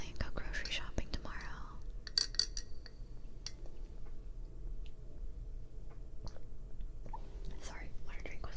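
Close-miked sips and gulps of water in a quiet room, a few wet mouth and swallowing sounds clustered near the start, then soft low background hiss.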